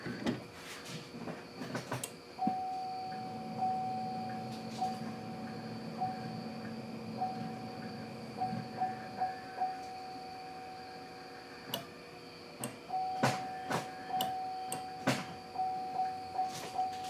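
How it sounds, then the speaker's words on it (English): Door-open chime in a GMC Acadia, a repeating high electronic tone pulsing steadily for several seconds, pausing, then resuming, mixed with clicks and clunks from the cabin and a low hum underneath, fairly quiet and nearby. "Door chime works."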